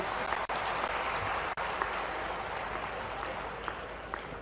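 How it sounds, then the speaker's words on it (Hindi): Audience applause for a state revenue minister at an official program, a continuous, fairly distant wash of many hands clapping, steady throughout with a couple of brief dropouts. "जोरदार ताली तो अच्छी बजना चाहिए करण सिंह जी के लिए।"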